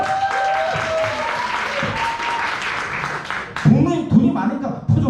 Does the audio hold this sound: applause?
yes